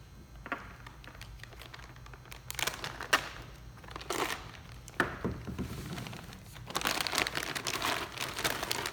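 Plastic packaging around a Ford Performance control pack wiring harness for a Coyote-swapped Mustang is cut and pulled open, giving close, loud crinkling and rustling bursts with brief pauses and no talk.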